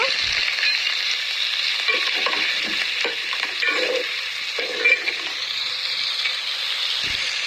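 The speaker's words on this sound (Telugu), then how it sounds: "ప్యాన్లో ఆయిల్ వేసి గరం మసాలా ఐటమ్స్ అన్నీ వేసేసి ఆనియన్ చిల్లీ వేసేసి మంచిగా కొంచెం ఫ్రై చేయాలి" Garam masala spices, onion and chili frying in oil in a pan for a gongura chicken biryani, a close steady sizzle with occasional stirring scrapes, continuous and without talk.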